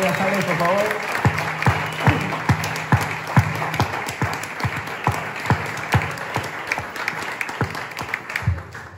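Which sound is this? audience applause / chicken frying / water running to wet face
audience applause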